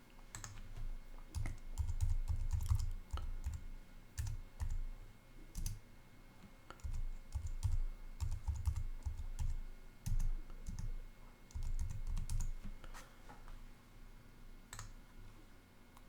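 Keys clack in irregular bursts on a computer keyboard while a password is entered on a Windows machine, a close, steady run of soft clicks and taps with short pauses and no voices.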